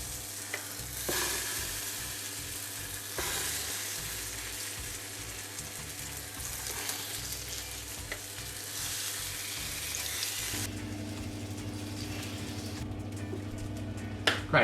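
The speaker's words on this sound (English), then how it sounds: "oil into the pan, make sure it's nice and hot, and then you can just throw in your tempeh" Tempeh pieces dropped into hot oil in a pan for vegan burgers sizzle and crackle loudly and continuously, with stirring scrapes and brief clicks, close by and with no voices.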